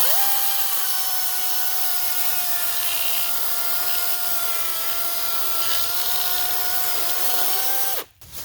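A 16-inch DeWalt 60V MAX battery chainsaw whines steadily at high speed, close and loud, cutting continuously through wood for several seconds before stopping abruptly.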